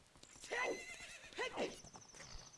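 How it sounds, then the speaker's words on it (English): A horse in the Ocarina of Time video game whinnies twice in quick succession, faint and distant, with light hoof clip-clop in the background. "Hear my horse in the distance."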